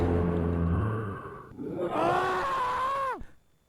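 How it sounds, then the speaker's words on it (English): Creatures in a zombie video game let out loud, strained groaning screams, a rough, growling cry that rises and then bends sharply downward before cutting off near the end. "Screams."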